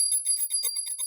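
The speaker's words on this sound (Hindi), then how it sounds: "फिर से मैं लंबी घंटी बजाऊंगा" A small hand bell rings on and on in rapid repeated strokes, bright and clear, close by and without talk, used as a long signal in a group devotional activity.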